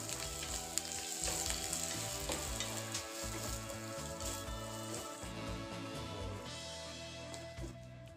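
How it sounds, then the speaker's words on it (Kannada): Onion, garlic, curry leaves and cumin fry in a pan with a steady close sizzle and occasional stirring scrapes. The pan is cooking the base for a drumstick curry, and no one speaks. "ಇದಕ್ಕೆ 7-8 ಇಸ್ಲು ಬೆಳ್ಳುಳ್ಳಿ, ಸ್ವಲ್ಪ ಕರಿಬೇವಿನ ಸೊಪ್ಪು, ಒಂದು 1/2 ಟೀ ಸ್ಪೂನಷ್ಟು ಜೀರಿಗೆ ಹಾಕ್ಕೊಂಡು ಇದನ್ನು ಚೆನ್ನಾಗಿ ಫ್ರೈ ಮಾಡ್ಕೋಬೇಕು."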